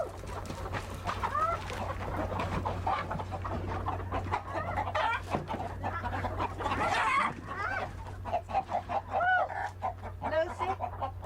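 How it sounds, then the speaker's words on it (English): Chickens clucking steadily at a farm, several birds close by with overlapping bursts and brief squawks throughout, no talking over them. "And today, Lucy, we're gonna catch our chicken so we can go cook it."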